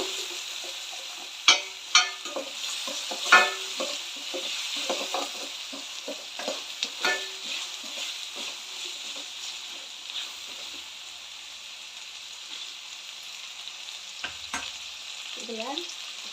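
Tomatoes and onion sautéing in a pan for egg curry, with scattered stirring scrapes and soft sizzling early on that settles into a quiet, steady frying hiss.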